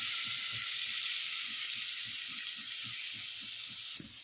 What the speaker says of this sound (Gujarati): હવે આની અંદર આપણે ભાજી નાખી દઈશું। જો આવી રીતે ભાજી નાખી દેવાની।